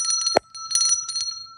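A small bicycle-style bell gives a few quick bright rings, loud and close, followed by a softer run of metallic tings that fade out.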